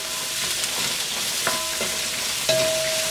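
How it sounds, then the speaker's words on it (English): Asparagus is stir-fried in a hot pan with garlic and ginger, a continuous close sizzle broken by a few clanks and scrapes of the utensil against the pan, with no talking. "we're going to throw our asparagus right on in there too. Stir that up with that garlic and that ginger."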